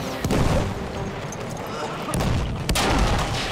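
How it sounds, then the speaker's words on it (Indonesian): Bomb explosions and battlefield fire in Battlefield 1, a dense rumble with a few sharp, loud blasts scattered through, heard alongside background voices. "Oh, kena bom bom"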